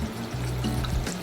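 Dark steeped tea liquor poured into simmering mutton curry in a pot, a brief wet splash and gurgle over a steady sizzle of cooking meat, close and fairly loud with no talking.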